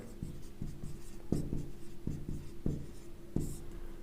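Pen scratching across paper as a chemistry definition is written out by hand for a class, soft intermittent strokes and taps in an irregular rhythm, close up and quiet with no talking.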